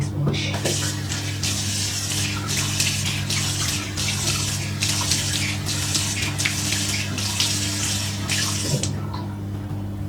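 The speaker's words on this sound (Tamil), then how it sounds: "Just I'm doing a normal face wash." A tap runs steadily into a sink during a face wash, a constant close gushing splash with a low hum underneath and brief splashing bursts as hands move through the stream.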